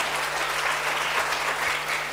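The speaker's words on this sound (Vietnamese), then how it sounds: "Hãy vỗ tay cảm tạ Đức Chúa Trời" Vietnamese Protestant congregation clapping hands in thanks to God during a sermon, a brief full burst of many hands at once, dense and fairly loud, sustained evenly with no speech.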